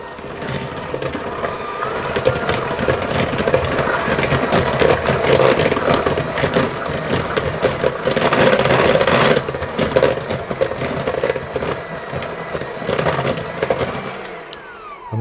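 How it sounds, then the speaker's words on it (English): An electric mixer whisks rice flour, salt and hazelnuts, a close, continuous rattling whir with gritty crunching that stays loud and busy before cutting off near the end. "I'm going to whisk those to combine them"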